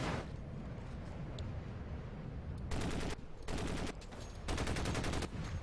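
Bursts of rapid automatic fire from a tank in the shooter game Crysis Warhead, two clear volleys in the second half over a steady low rumble of in-game ambience.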